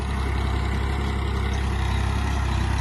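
A 3630 tractor engine runs steadily, a deep, loud, even throbbing rumble heard close up with no voices over it.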